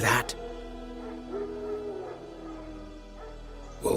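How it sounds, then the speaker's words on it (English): Wild dogs in the video game The Witcher 3 growl and whimper in a low, continuous rumble at moderate distance, with faint voices and ambient game sound beneath. "Wild dogs. Yes. More dangerous than wolves."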